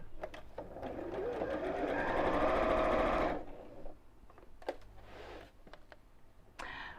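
A sewing machine runs close by, stitching fabric in a steady whirring burst for about three seconds, then stops, followed by quiet handling noises and soft clicks.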